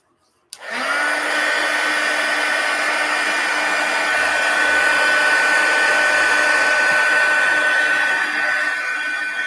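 A hair dryer switches on with a click and blows steadily and loudly up close, drying a mixed media collage pumpkin, a constant whirring rush with no talk.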